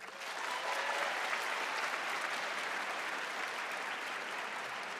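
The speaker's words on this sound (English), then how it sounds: "I want you to clap your hands." Lecture audience of parents and guardians clapping their hands, applause swelling quickly and holding steady as a dense, even patter across the hall.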